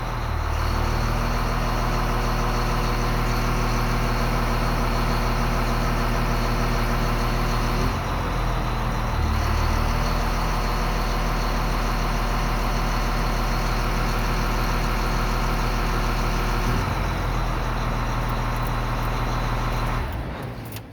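A motor grader's engine runs steadily with a Rexroth load-sensing pump driving the hydraulic side shift, a loud continuous low drone that dips briefly at moments as the load changes.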